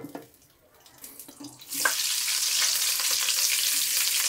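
Butter added to a hot pot of oil; a quiet clatter first, then a sudden loud, close, steady sizzle that holds until the end.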